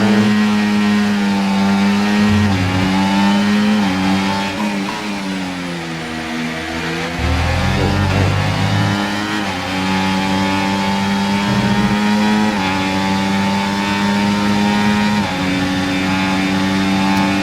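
F1 race car engine at full throttle in the F1 24 racing game at Spa, a loud, steady high-pitched whine that stays near, with a brief dip in pitch around a lift and downshift before climbing back.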